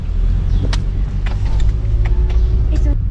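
A car in a family convoy driving between relatives' houses on Hari Raya in Malaysia, with a steady low cabin rumble throughout and faint voices talking inside.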